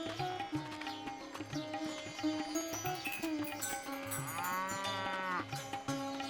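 A cow moos repeatedly close by, long drawn-out lowing calls with rising and falling pitch, heard over a continuous rhythmic musical backing with no talking.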